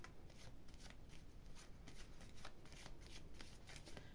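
Tarot cards are shuffled and cut in a steady run of close, dry riffling and papery rustles that fill the whole stretch without pause. No one speaks.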